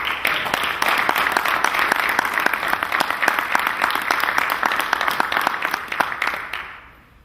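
Sustained audience applause fills a town hall meeting about Oscar Grant, dense and steady for several seconds before fading out at the end.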